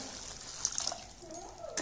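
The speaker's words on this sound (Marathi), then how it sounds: "तर इथं मी टोटल 1 तांबे पाणी ओतलेलं आहे" Water from a small metal pot is poured into a pot of barnyard millet cooking on a gas stove, a short, close splashing trickle with a few brighter splashes in the middle.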